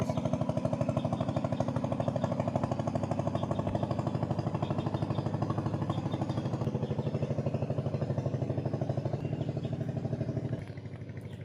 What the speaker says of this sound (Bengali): এই যে একটা ট্রলার যাইতেছে